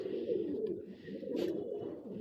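A racing pigeon from a long-distance tournament coos in a soft, fluttering low murmur that runs throughout at modest volume, with no voices.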